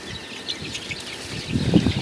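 A hen kept in a small box clucks softly in short bursts nearby, with some faint shuffling and a louder low cluck near the end.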